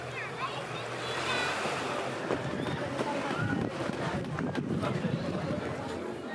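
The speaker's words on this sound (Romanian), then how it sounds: "Dar acum suntem efectiv pe plajă." Waves wash steadily onto a Baltic Sea beach, mixed with wind buffeting the microphone in a broad, continuous roar at moderate level.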